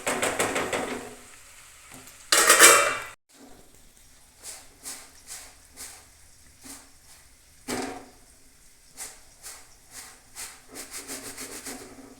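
A spoon stirs carrot and chili relish in a pan with soft, repeated scraping strokes. The strokes come in an uneven rhythm, and a sharper rattling burst stands out early on.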